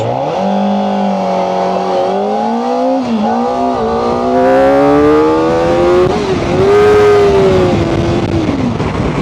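Kawasaki Ninja ZX-4RR 400 cc motorcycle accelerating hard from standstill toward 100 km/h, a loud high-pitched engine wail rising through the revs with brief dips at gear shifts, sustained and close, with no talking.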